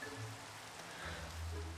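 Rain falls in the video game Minecraft as a soft, faint, continuous patter and hiss, with a few low tones beneath it.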